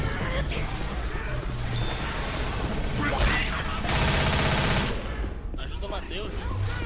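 Dense gunfire in the video game Left 4 Dead, rapid machine-gun-like bursts and shots layered into a constant loud clatter, with voices talking over the fighting.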